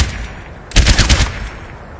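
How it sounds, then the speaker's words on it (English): Standard weapon fire from the Overwatch video game: a quick, loud burst of about five rapid shots lasting roughly half a second, followed by a fading tail, with no talking. "You will hear this normal weapon fire first as a reference."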